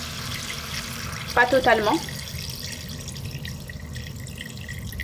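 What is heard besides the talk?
water poured over softened onions in a pot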